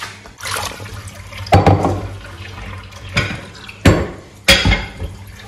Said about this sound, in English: You need a lot of water, so I'll add more water to this.